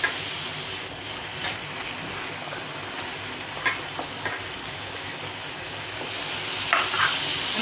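Raw washed chicken dropped into a hot pan, giving a steady loud sizzle with occasional stirring scrapes and small pops, close up.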